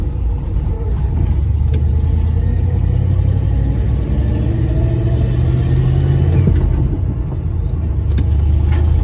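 A Mopar 318 small-block V8 in a hot-rod starter truck, running on fuel fed from a bucket, idles with a steady, loud, rumbling drone throughout.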